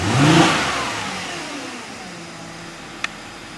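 A 2010 Audi Q5 engine, just fitted with new spark plugs to fix a misfire, gives a brief rev that settles into a smooth, steady idle close by, ending with a single small click.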